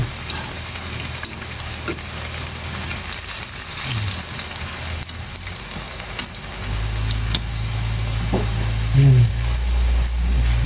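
Sliced eggplant sizzles and spatters steadily in hot oil in a pan, the crackle growing louder with a deeper bubbling rush later on and a few clinks of the utensil.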